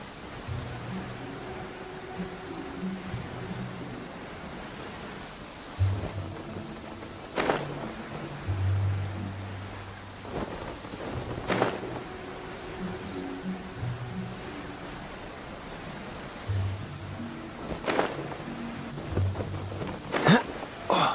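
Steady rain with rumbles of thunder in the video game Genshin Impact, a continuous wash of rainfall broken by several sharp thunder cracks, with soft game music tones underneath and no talking.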